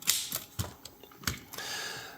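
Several sharp, uneven keystrikes clack on an Underwood Portable 3 Bank typewriter with a line lock problem, close and crisp, followed by a brief sliding carriage or mechanism sound.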